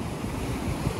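Ocean waves crash against the Irish coast in wind and rain, a dense, steady roar of surf and gusting wind filling the whole second, close and loud with no voices.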